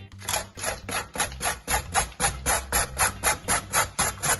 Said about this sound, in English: I normally use the bigger side of the shredded grater, and then when I'm down to about 1/4, I use the smaller side